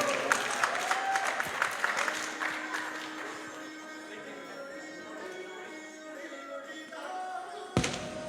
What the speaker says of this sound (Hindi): जोरदार ताली बजाकर आर्या और राधिका को स्वागत करते हैं और धन्यवाद देते हैं